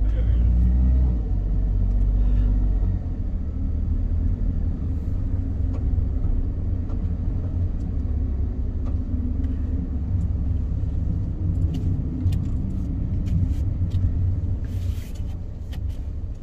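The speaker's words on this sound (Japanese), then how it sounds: "ウポポイ平日だけど結構車いるね。" Cars move through the parking lot at Upopoi in Shiraoi, Hokkaido, with a steady low engine rumble close by that holds throughout.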